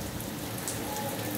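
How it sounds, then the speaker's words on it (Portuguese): Steady rain falls with wind blowing from the east at the seaside at Praia do Presídio, a dense continuous hiss at moderate level with no talk. "Vento soprando de leste aí, ó, com chuva."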